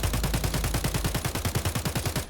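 An AK rifle fires in Escape from Tarkov: one sustained burst of rapid, evenly spaced shots, close and punchy, with no voices over it.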